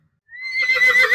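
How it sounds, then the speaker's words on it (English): A horse gives a single loud, rising whinny that starts abruptly after a brief silence and carries on to the end, heard alone. "that's a horse"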